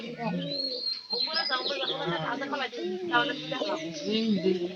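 Domestic pigeons coo in low, rolling calls close by, with a few chirps mixed in, while people talk over them almost throughout.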